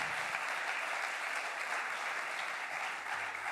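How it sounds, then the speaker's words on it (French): Sustained applause from a conference audience at a national congress in a large hall, steady and dense throughout with no break, a continuous wash of many hands clapping at once. "On peut l'applaudir quand même très très fort."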